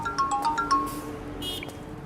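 Phone ringing with a short electronic ringtone melody of several quick tonal beeps, heard over a busy background hum with no speech.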